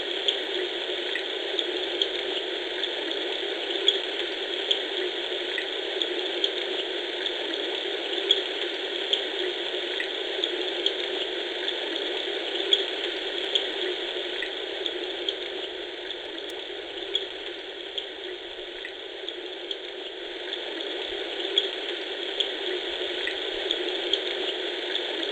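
A Munchkin MK0038 soothing sound machine plays its rain setting, a steady, faint hiss of synthetic rainfall with small repeating clicks and drips throughout, no voices over it.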